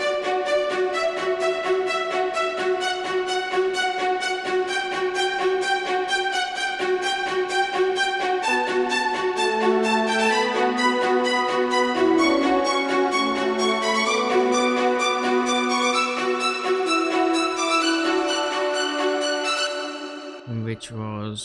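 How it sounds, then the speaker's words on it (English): A progressive house string layer plays with a full mix behind it, evolving upward from low notes to high ones in a continuous, dense sustained wash, loud and steady, cutting off abruptly near the end. "added a string just to give something new, which is evolving from the lowest point to the highest point"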